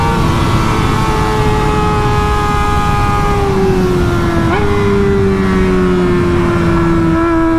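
A Kawasaki ZX-4RR motorcycle, a Graves Motorsports build, revs hard under acceleration, its high-pitched engine whine climbing and dropping at a gear change, loud, close and continuous without talk.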